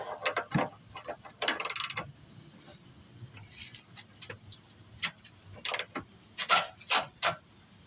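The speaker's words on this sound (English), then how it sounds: "put a ratchet on this and possibly get it loose a little bit faster than a wrench" A ratchet works a bolt loose on a 2007 Grand Prix during a solenoid change, giving short bursts of metallic clicking and rattling with pauses between, close and fairly loud.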